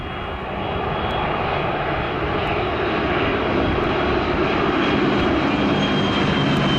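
A warbird aircraft engine drones steadily and loudly at the Midlands Air Festival, a continuous, even roar that holds for the whole stretch with no talk.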